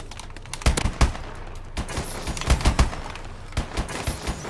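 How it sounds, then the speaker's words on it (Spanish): Bursts of gunfire from a teammate in a battle royale shooter, scattered volleys of rapid shots at mid distance in several clusters with short gaps between them, no talking. "El compi está disparando a uno, no sé dónde."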